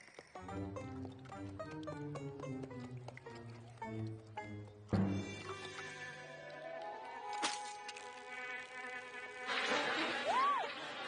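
Cartoon bees buzz in a My Little Pony: Friendship Is Magic scene, entering after a stretch of bright music and sound effects as a brief, close insect drone near the end.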